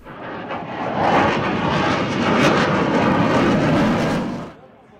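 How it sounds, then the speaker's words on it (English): A Saab 39 Gripen fighter jet flies at an air show, its loud jet roar swelling and holding steady before it cuts off near the end. "Hungary with the Saab 39 Gripen operating from its base at Kecskemét"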